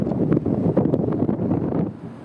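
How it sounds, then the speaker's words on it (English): Strong gusty wind buffets the microphone outdoors at the Hoover Dam, producing a loud continuous rumbling roar for the whole stretch. "It's just as windy this side."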